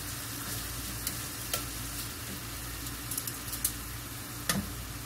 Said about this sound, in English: here's the onion sauteing